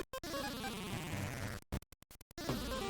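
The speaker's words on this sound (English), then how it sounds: "I like the noises small bees make." Small bees in Wario Land II give off a dense electronic buzzing drone, cut short once early and then stuttering into several rapid on-off bursts before the steady buzz resumes.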